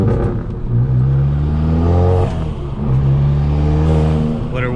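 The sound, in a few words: Volkswagen GTI car engine running and warming up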